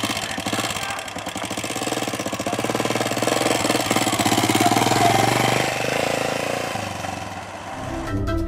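A jackhammer pounds nearby with a steady, loud, rapid hammering that runs without a break for the whole stretch, with no one talking over it.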